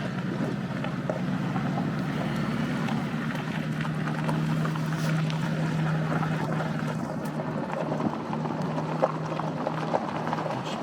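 A boat is launched at a lakeside campground, with a steady low motor drone that holds for the whole stretch under gusty wind noise, moderately loud and without talk.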